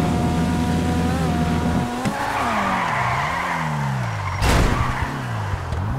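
A modified car in the video game GTA 5 roars with a steady engine drone, then its tires squeal through a long swerving skid before a sharp crash impact with the front bumper; loud and close, with no talking.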